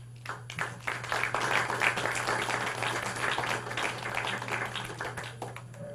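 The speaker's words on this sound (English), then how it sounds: "Another round of applause for our" An audience applauds the Montclair High School crew team at an Essex County Freeholders board meeting, with steady dense clapping for about six seconds over a constant low hum.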